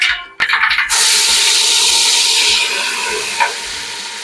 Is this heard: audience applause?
no